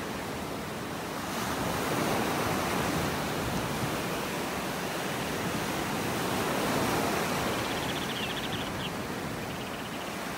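Ocean surf breaks continuously on a beach in North Naples, Florida, a steady broadband wash that swells louder in two broad surges around the middle of the clip, with no voices over it.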